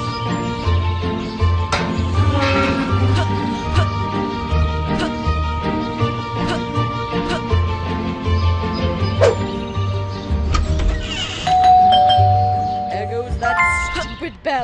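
A chiming doorbell rings in the Scary Teacher 3D video game, with a steady melodic chime pattern over looping game music and some sound effects.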